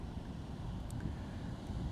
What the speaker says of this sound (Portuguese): não está ventando tanto assim, mas está ventando um pouquinho